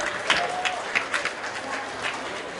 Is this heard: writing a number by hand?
no